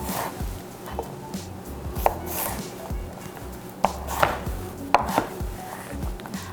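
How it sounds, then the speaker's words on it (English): A knife chops thick asparagus spears, halved lengthwise, into 1-inch pieces on a board, giving a steady run of close, crisp cuts with a few sharper knocks. "I like to cut them in half lengthwise, like that, and then again into about 1-inch pieces"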